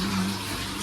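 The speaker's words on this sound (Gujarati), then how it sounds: "તો પાણી બાણી બધું ચાલુ છે." Water runs in a steady, fairly loud rush, like a tap or tub filling, continuous through the brief moment without speech.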